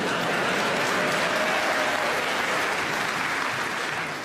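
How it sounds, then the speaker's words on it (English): Studio audience applause at a radio comedy panel show recording, a dense, steady wash of clapping that holds loud for several seconds before starting to fade. "It's always best to applaud before these rounds, I find."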